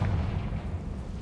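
The Confringo fire spell from Hogwarts Legacy goes off as a deep, rumbling blast. It holds for about a second at a steady level, with no voices.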